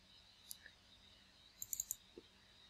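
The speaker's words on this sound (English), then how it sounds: "I select it and double click on it" Quiet mouse clicks during work on a computer running Dynamics 365 Finance and Operations: a few isolated clicks, then a quick double-click cluster, faint and close against low room hiss.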